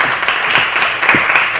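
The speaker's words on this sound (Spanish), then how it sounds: "Un aplauso para él también." Audience applause at a university debate tournament, a dense steady patter of clapping from a seated crowd throughout, with no talking.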